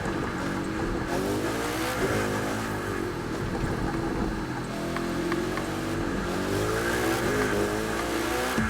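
A Koenigsegg Jesko hypercar engine drones loud and close in The Crew 2, rising and falling in pitch through repeated gear changes and revs with a continuous roar and no talking.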